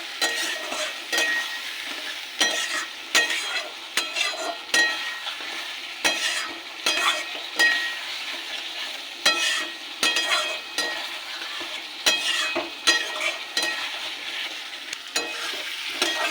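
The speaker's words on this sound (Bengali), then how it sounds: "মশলা কষে তেল ছেড়ে এসছে" Ground spices with salt, turmeric, chilli and roasted cumin fry in oil for a fish curry, a steady close sizzle broken by repeated scraping strokes of a spoon against the pan, with no talking.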